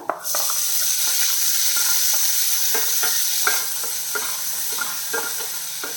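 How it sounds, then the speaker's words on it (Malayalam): Chopped onions sautéing in a pan for a ladies finger (okra) dish, a loud steady sizzle with repeated rhythmic stirring scrapes throughout; no talking. "നമ്മൾ കട്ട് ചെയ്ത് വെച്ചിരിക്കുന്ന സവാള ഉണ്ടല്ലോ അത് ചേർക്കുന്നു"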